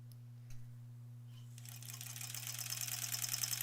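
A sewing machine starts stitching quilt blocks together after a steady electrical hum and a few clicks, then settles into a fast, even mechanical chatter that grows a little louder.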